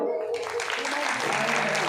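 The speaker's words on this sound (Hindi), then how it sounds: "अगर कन्हैया पसंद है तो आप लोग ताली बजा दो।" An audience claps at a religious discourse gathering, with brief, fairly faint applause mixed with voices.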